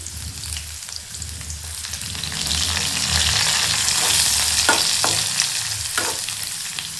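Curry leaves and chopped onion fry in a pan with a continuous close sizzle and stirring scrapes, growing louder and denser in the second half.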